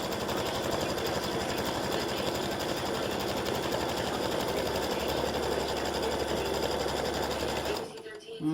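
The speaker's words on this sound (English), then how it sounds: "this just stitches down the fabric" An embroidery machine stitches down fabric in a steady, loud, rapid mechanical chatter that runs continuously, then stops abruptly near the end.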